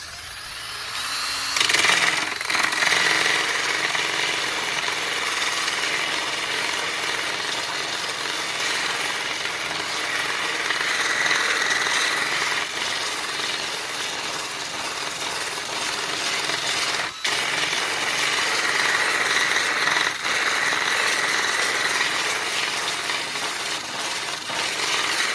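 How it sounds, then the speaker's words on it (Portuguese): An orbital sander with a rubber-backed sanding disc rounds over wooden parts for a trucker-style lounge chair, whirring and rasping in a loud, continuous drone for the whole stretch. "eu vou arredondar com uma lixa circulante. Lixadeira simples."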